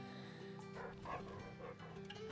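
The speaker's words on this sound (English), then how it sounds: "Don't you bark at me." A dog in a fantasy video game yips and whimpers in short, soft bursts over low, steady background music and ambience.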